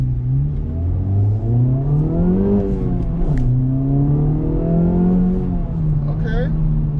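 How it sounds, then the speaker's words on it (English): Honda Type R engine in Sport Plus mode, a loud close idle drone that rises and dips as it revs lightly after startup, with a brief click and a faint voice near the end. "there's a little burble with just the startup"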